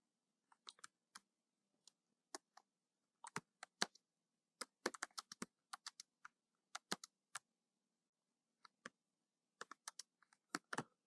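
Computer keyboard typed on while writing printf code, with quiet, close, irregular clusters of key clicks separated by short pauses and no talking.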